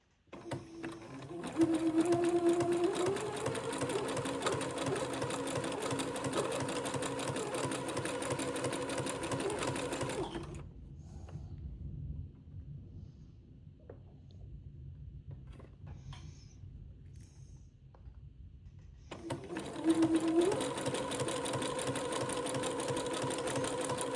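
A sewing machine runs a long zigzag stitch through fabric, a loud continuous mechanical whir for about ten seconds, a quiet pause with light handling clicks, then stitching resumes.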